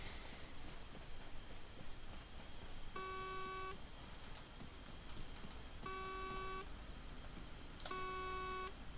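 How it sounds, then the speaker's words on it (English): A car horn in the video game Arma 3 sounds three times, each a short, clear tonal honk. The honks are spaced a few seconds apart over a quiet, steady background hiss. "Is that the car horn?"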